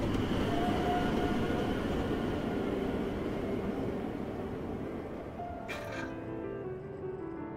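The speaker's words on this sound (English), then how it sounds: "When is that metro coming?" A metro train in the video game Underground Blossom by Rusty Lake gives a steady, heavy rumbling roar that slowly eases. A brief high metallic squeal cuts in near the end as the sound settles lower.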